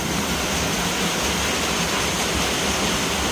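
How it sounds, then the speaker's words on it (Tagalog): Floodwater rushes through a street in Las Piñas, a dense, steady broadband roar like a torrent, close and unbroken throughout, with no voices. "Tignan mo, nabaha na. Ayan, baha na."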